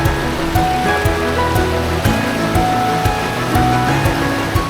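Water surging from the Río Borosa spring, a constant loud rushing and splashing close by, with steady turbulent flow and no voices.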